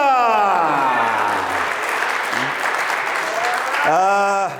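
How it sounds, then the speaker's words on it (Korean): Audience applause at a leadership lecture swells into dense, sustained clapping filling most of the stretch, with a voice rising over it at the start and again near the end. "다 같이 박수 부탁드리겠습니다."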